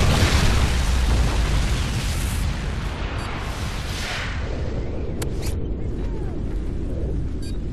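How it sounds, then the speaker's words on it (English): A MOAB bomb detonates in Call of Duty, a loud sustained blast with broad rumbling roar that stays heavy throughout and slowly thins, with a few faint sharp pops near the end. "Friendly Mo-aB incoming."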